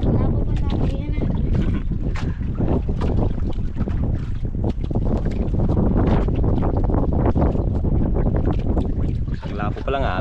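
Strong wind buffets a fishing boat at sea, roaring continuously into the microphone with a dense, gusty rush, mixed with water and hull noise.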